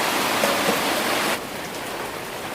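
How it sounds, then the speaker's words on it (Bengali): Steady rain pours outside a rural kitchen as a dense, even hiss with no pauses, dropping slightly in level partway through and continuing unbroken. "আর ওদিকে ঝুমঝুম করে বৃষ্টি পড়ছে"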